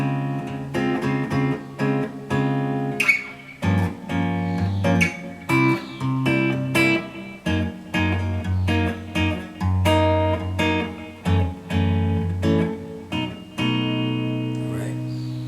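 Strummed guitar chords ring out in a steady pattern, close and clear, with sharp strokes and brief muted pauses between changes.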